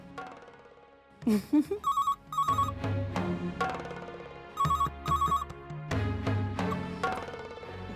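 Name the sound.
telephone ringing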